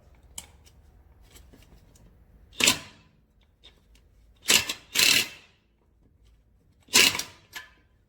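A power tool on a socket breaks wheel nuts loose in a few short, sharp bursts, one single and then two close together, with quiet gaps and faint clicks between them.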